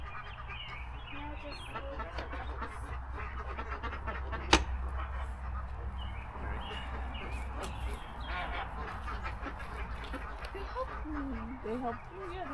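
Call ducks quacking while being herded into their run, scattered nasal quacks at moderate distance amid outdoor background noise, with people talking intermittently and a sharp knock partway through.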